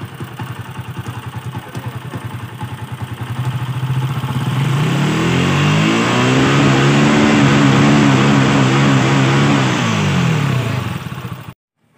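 TMX motorcycle engine with a fouled black spark plug and rich fuel mixture, idling roughly and then revved up and held, its stuttering misfire audible as uneven pulses throughout, close and loud, cutting off abruptly at the end.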